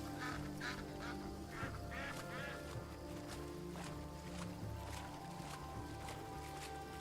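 Ducks quack in short repeated bursts on a body of water in a video game, set over a steady background of music or ambient tones, moderately near and clear.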